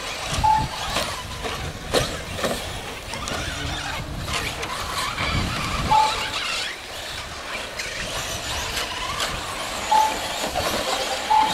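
A 4x4 short course race truck tears around a track in a race final, with a continuous motor whine and drone broken by tire squeals and scrabbling, heard at a moderate distance with faint periodic beeps.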